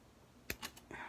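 A few quick, crisp metallic snips of scissors cutting bead chain for fly tying, in close succession, sharp and near, with quiet room tone around them.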